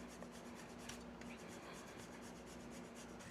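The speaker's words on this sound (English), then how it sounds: "Let's grate some fresh Parmesan cheese." Fresh Parmesan cheese is grated in quick, quiet, repeated rasping strokes close by, a faint steady scratching with no talking.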